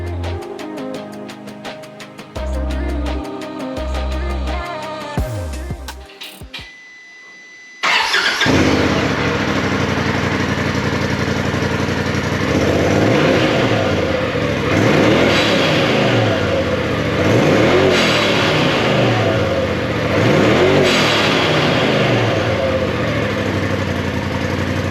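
A Turbo R engine cranks, catches and runs steadily, close and loud, with repeated rev swells each followed by a hiss from the blow-off valve venting.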